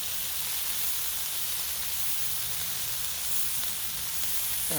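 Smash burgers sizzling on a Blackstone griddle, a loud continuous hissing fry with dense crackle throughout, steady and close with no talk.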